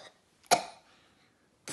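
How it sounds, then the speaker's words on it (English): A single sharp cough, close and fairly loud, followed by a quiet pause before another short burst of sound at the end. "He coughs."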